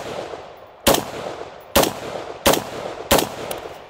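Four loud, sharp rifle shots sound at a steady pace about a second apart, each a sudden crack over faint background noise, with no talk.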